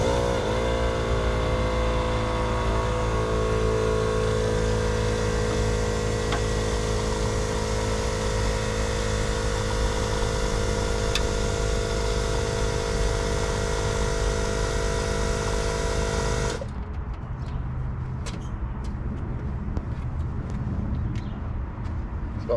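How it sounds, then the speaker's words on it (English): A Harbor Freight air compressor runs steadily and loud with a constant motor drone, powering an air jack set under a car wheel, then cuts out near the end, leaving quieter background noise. "All right, got the Harbor Freight compressor hooked up."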